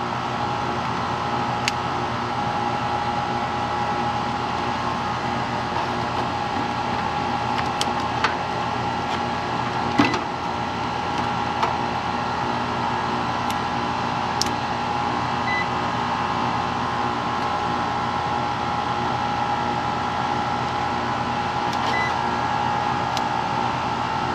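A residential air conditioner's compressor and fan run with a steady mechanical hum and whirr, broken by a few faint clicks and ticks, close and unchanging, with no speech.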